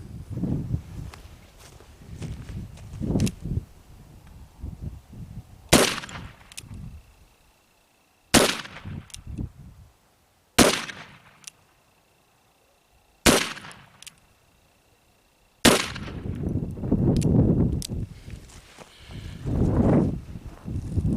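An 1862 Pocket Police revolver fires five loud, sharp shots spaced a few seconds apart outdoors, with quieter handling and movement noise in between.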